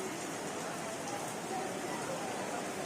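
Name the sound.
rain falling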